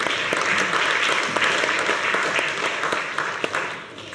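An audience at a candidate forum applauds in a sustained round of clapping that fades toward the end, with a faint voice underneath.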